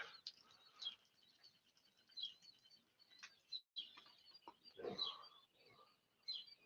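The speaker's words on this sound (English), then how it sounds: "It's all quiet except for the birds chirping around here." Small birds chirp and tweet faintly in a quiet outdoor setting, repeated short calls scattered across the scene with soft background noise.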